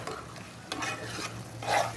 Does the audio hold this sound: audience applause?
no